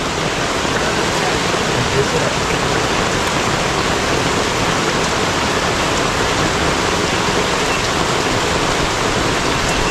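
Heavy rain pours down in a dense, unbroken roar, loud and close, with no pauses across the whole stretch.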